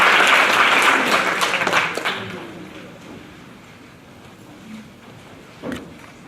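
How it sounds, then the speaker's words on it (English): Audience applause at a Hindu women's conference panel session, clapping that starts fairly loud and fades over the first couple of seconds into a quiet room with a few faint handling knocks. "Big round of applause."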